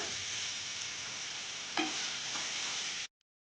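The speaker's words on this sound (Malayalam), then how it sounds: "ശേഷം നമുക്കതിലേക്ക് നമ്മൾ കീറി വെച്ചിട്ടുള്ള പച്ചമുളക് നമുക്കിടാം." Slit green chillies drop into ginger garlic paste frying for a roasted-coconut chicken curry, giving a steady close hiss with one brief crackle midway before the sizzle cuts off abruptly.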